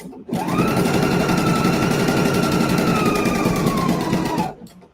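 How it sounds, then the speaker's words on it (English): A sewing machine stitching the side seam of a sleeve runs in one loud, continuous close-up whir for about four seconds, starting and stopping abruptly. "let's sew a hem here"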